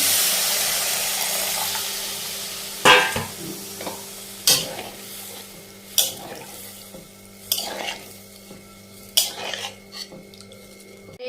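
Ridge gourd curry frying with spices in a pan as water goes in, a steady background sizzle broken by several sharp scraping stirs and utensil knocks spaced every second or so.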